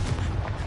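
In the Hogwarts video game, the Bombarda spell sets off a single deep, rumbling blast that fills the whole moment, close and heavy with low booming energy.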